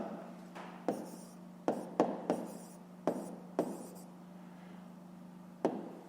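Handwriting on paper while working a 5th-grade math exercise, a series of quiet scratchy pen strokes with sharp taps at irregular intervals, close and soft, without speech.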